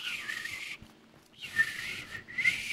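A person whistles with the tongue, producing two short, fairly quiet high-pitched phrases separated by a brief pause, with no speech over them.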